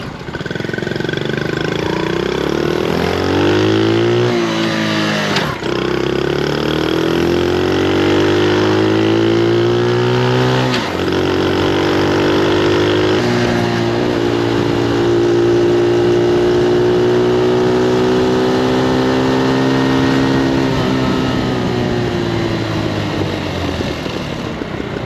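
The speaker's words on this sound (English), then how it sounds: "Let these vehicles pass here." Motor vehicles pass on a residential road near Traverse City, Michigan, their engine tones rising and falling in pitch as each goes by, loud and close, one after another over a continuous engine drone.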